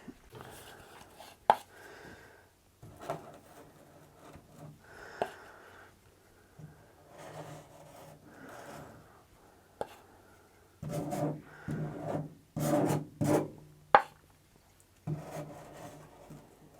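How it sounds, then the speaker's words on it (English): Scrap piece of wood scraping excess material off ICF blocks beside hot tub and pool plumbing, a faint, irregular run of rubbing and scratching strokes with sharper knocks and louder scrapes toward the end. "I'm just going to use a scrap piece of wood just to clear that up a little bit."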